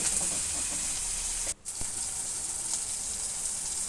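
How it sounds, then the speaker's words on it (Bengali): Cauliflower sizzling and hissing steadily in a hot pan with turmeric, stirred now and then, with a brief dip in the frying noise partway through. "হলুদ দিয়ে আমি নাড়াচাড়া করতে থাকবো।"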